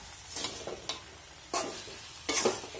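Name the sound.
amla being mixed with powdered sugar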